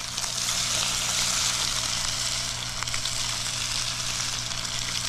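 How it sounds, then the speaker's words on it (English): Steady, crackling sizzle of blackened redfish frying in a hot cast iron skillet, continuous and close with no talking. "That is the sizzle"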